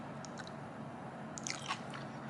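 Crisp salad with paprika, cucumber and tomato being chewed close up, with a few soft crunchy bites and moist squishes over a quiet background hiss.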